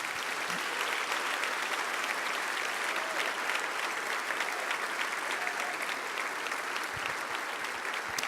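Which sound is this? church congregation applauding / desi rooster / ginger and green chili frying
church congregation applauding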